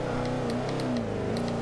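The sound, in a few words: Mercedes-Benz SLR passing Bugatti Veyron in Forza Horizon 2 video game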